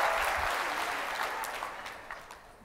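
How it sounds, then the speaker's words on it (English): Conference audience applause, a dense burst of clapping that starts strong and gradually thins out and fades toward the end. "You should applaud"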